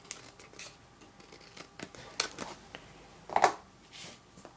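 Scissors snip excess paper from either side of a handmade greeting card, a few separate close cuts and faint rustles with quiet gaps between them, the sharpest cut near the end.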